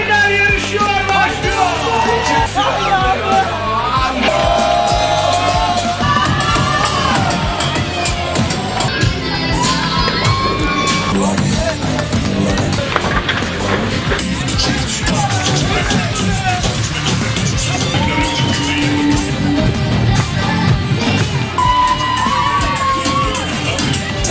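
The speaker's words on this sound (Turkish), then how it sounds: "Alkışlıyoruz." A large crowd at a company competition in Ankara cheers, whoops and yells loudly and without letup, with children shouting and voices babbling throughout the long, energetic roar.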